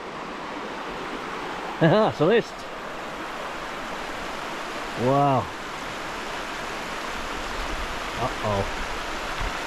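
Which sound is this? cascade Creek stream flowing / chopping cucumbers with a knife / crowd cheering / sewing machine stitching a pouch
cascade Creek stream flowing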